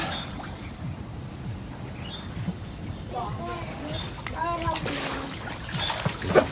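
People bathing in the sea make light, scattered splashes with trickling water, while children's and adults' voices chatter nearby and a brief bird-like chirp cuts in.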